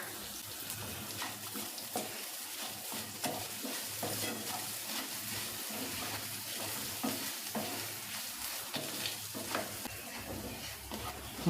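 Grated coconut and horse gram dry-roast together in a pan for a kollu thuvaiyal, heard as a continuous low sizzle broken by frequent scraping stirs close by, with no voices.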